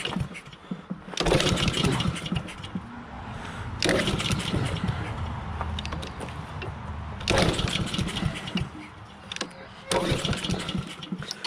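Honda lawn mower with water in its fuel system being pulled to start, four separate bursts of cranking and sputtering engine noise, each fading back to quiet between attempts, with someone talking in the pauses.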